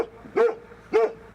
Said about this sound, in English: A pack of dogs greeted us at the helicopter pad.